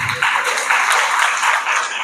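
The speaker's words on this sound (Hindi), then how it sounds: "महिलाएं एक बार अपने लिए जोरदार तालियां बजाएं भाई।" A crowd of women claps loudly and steadily at an LIC insurance branch training session in Indira Nagar, a dense, unbroken patter of applause lasting about two seconds.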